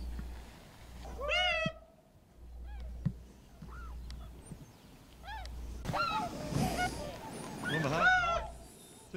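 Geese honk in scattered, nasal calls outdoors in Ohio, some close and loud, others fainter, with a denser cluster of overlapping honks and squawks toward the end.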